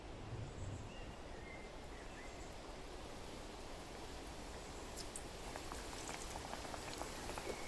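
Dough for a Persian sweet frying in hot oil gives a steady, dense bubbling crackle that stays even and close for the whole stretch, with no voices.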